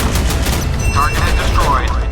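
Warship cannons fire in a naval combat video game, a loud, continuous barrage of booming gunfire with layered explosions filling the whole stretch.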